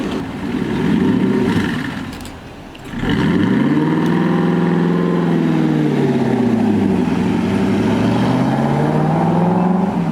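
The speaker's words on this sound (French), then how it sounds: "Oh, une Enzo. Stage S, V12. C'est un beau son." Ferrari Enzo V12 supercar with a Stage S tune, revving loudly on a street in Knokke: a deep, harmonic engine roar that dips briefly, then swells back and rises and falls through several sustained rev sweeps.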